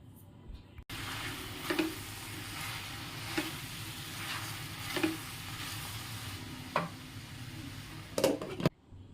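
Tomatoes and onion are stirred in a hot frying pan, with a steady soft sizzle and a few spoon scrapes against the pan at regular intervals, close by and without talking.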